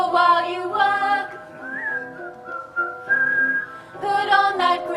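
Loud, clear whistling carries a bright melody during an open-air theatre performance of A Midsummer Night's Dream at Guildford Castle, with sustained and gliding notes and rich harmonics.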